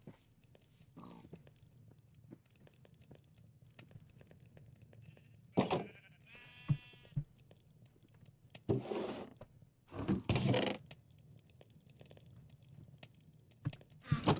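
Sheep in a video game bleat in a few scattered, moderately clear calls over quiet background noise and soft clicks.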